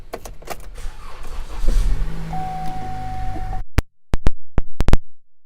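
Power window motor on a 2013 Chevrolet Malibu LT, a steady whirring hum running for a few seconds over car-interior noise, followed by several sharp clicks and thumps as the window stops and switches are pressed.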